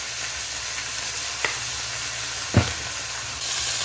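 Hamburger patties seasoned with salt, pepper, garlic and onion powder fry in a pan with a steady broad sizzle, a soft clack near the middle and a brief louder scrape of a spatula, no talk.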